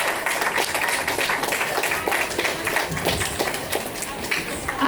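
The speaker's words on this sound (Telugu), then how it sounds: "ఇక్కడ కోఆర్డినేట్ చేసిన ప్రణీత గారికి, సుష్మా గారికి ఒకసారి గట్టిగా క్లాప్స్ కొట్టాలని కోరుకుంటున్నాను" Audience applause at a dance school's annual day celebration, a dense, steady wash of many hands clapping that holds evenly for the whole stretch, with no one speaking over it.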